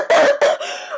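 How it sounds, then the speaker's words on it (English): A woman coughs and chokes heavily in three harsh, close bursts: two strong coughs and then a longer, ragged choking exhale. "She coughed and choked heavily while climbing out of the small pile."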